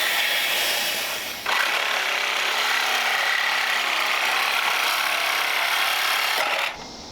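Loud, close reciprocating saw cuts steadily for several seconds, starting abruptly and then stopping, while clearing an old farm fence row around 1932 and 1947 Ford panel trucks.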